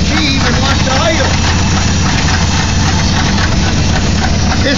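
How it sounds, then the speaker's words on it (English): A 1964 Chevy Impala state patrol car, left sitting for years, settles into a loud, close idle after starting, its engine a steady rumbling drone without pause. "I'm just going to turn the key. Look at that. She even wants to idle."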